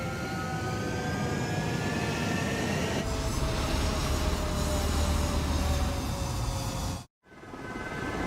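Jet fighters roar on takeoff in Ace Combat 7, a loud sustained engine blast with rising whine that swells midway, then cuts briefly to silence before resuming.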